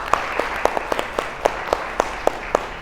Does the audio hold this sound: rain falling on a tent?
no